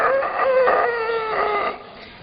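A voice imitates a rooster crowing, one drawn-out, wavering call lasting nearly two seconds, loud and close, then trailing off.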